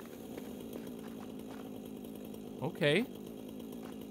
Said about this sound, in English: Looks like I'm gonna need a handy dandy chainsaw.